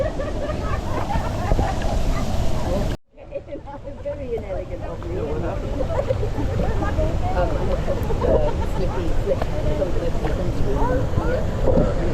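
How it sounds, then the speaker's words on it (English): Steady broadband rushing water from a large waterfall at a waterpark fills the clip, loud and continuous, with a brief dropout near the start and voices faintly mixed in. "I can hear a waterfall."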